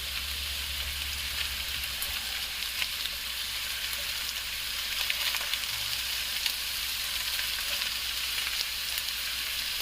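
Food frying in a pan for an open-faced fried biscuit chicken pot pie, a steady bright sizzle with scattered crackles and faint stirring scrapes, close and unbroken, no talk.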